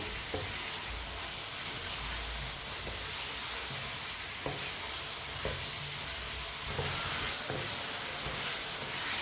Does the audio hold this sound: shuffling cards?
no